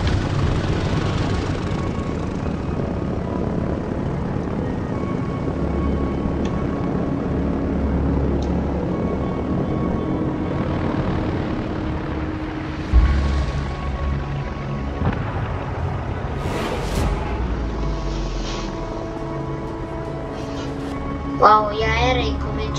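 Old TBD-1 torpedo-bomber propeller engines drone continuously through a combat video game, a steady rumbling roar with occasional louder bursts and impacts near the end.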